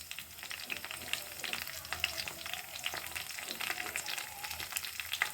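Mustard seeds, curry leaves and cumin sizzle steadily in hot oil, a faint, continuous crackle with scattered small pops and spits throughout, no voices.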